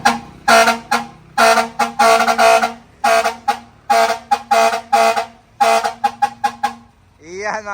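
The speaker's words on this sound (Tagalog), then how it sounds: "Fire air horn nasa ilalim ng bumper. Ayan yung fire air horn." A fire air horn mounted under a car's bumper blasts repeatedly in loud, close, rhythmic honks of varying length, ending on a short descending toot.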